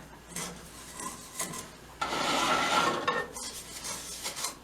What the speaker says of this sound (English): We need to scrape the bowl.